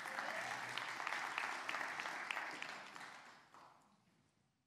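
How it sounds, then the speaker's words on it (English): Audience applause in a church gathering for a couple's anniversary, steady dense clapping that fills the room for a few seconds, then tapers off and fades near the end. "You can clap for them too."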